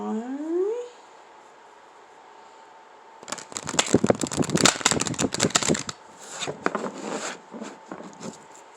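A deck of cards being riffled and shuffled in a rapid flurry of crisp flapping, then a few looser taps and slides.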